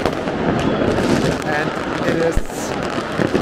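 New Year's fireworks explode just after midnight across Munich, Germany, with dense crackling and thudding bursts all around while someone talks close over the din.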